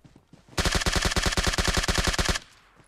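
A loud, close burst of rapid automatic gunfire in PUBG Mobile, around twenty evenly spaced shots in under two seconds, followed by a short fading tail.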